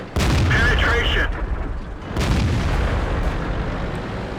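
Tank cannon blasts in World of Tanks, two heavy booming shots a couple of seconds apart, loud and close with mechanical rumble and game voice callouts between them.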